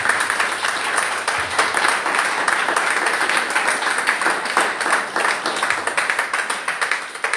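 A church congregation claps and applauds in praise, a steady wash of many hands that is loud and sustained throughout.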